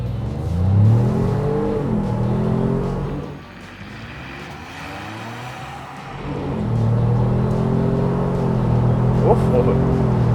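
Interior sound of a 2021 Ford Bronco Wildtrak with the 2.7 liter engine at full throttle, a loud droning rise in pitch, a gear change dip, then another climb, heard from inside the cabin.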